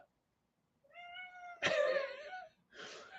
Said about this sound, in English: here comes the cat